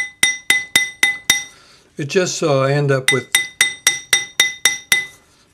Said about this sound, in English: in between the cross hatching, I'm going to use the Fretz silk hammer